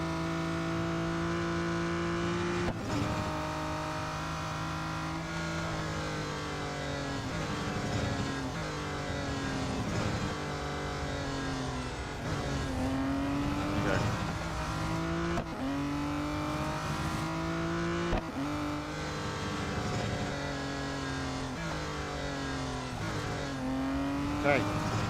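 A V12 race car engine in the racing game Real Racing 3 revs and shifts repeatedly over a lap, steady and loud with rising pitch sweeps and occasional tire squeal.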